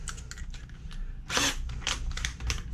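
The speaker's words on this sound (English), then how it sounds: "Now all I have to do is drill screws, the 2-inch screws here" A power drill drives 2-inch screws into a wooden stand built for a 50cc scooter. It gives short bursts of whirring, with one louder surge near the middle, close and moderately quiet, and no voices.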